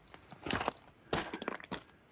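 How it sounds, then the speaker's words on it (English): A drone finder emits two clear high electronic beeps in quick succession, followed by soft rustling and handling noises close by. "Oh, it beeped three times."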